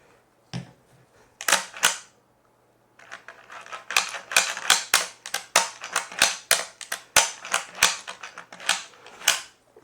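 Rifle lever worked back and forth after oiling, a run of sharp metallic clacks and snaps, close and crisp, coming in quick irregular bursts with brief pauses.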